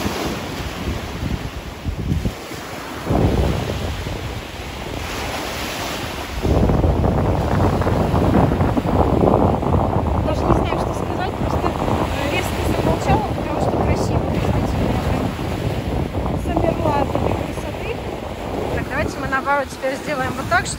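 Black Sea surf at Anapa rolls in steadily with wind buffeting the microphone, a continuous roar that swells louder partway through, while a person talks over it.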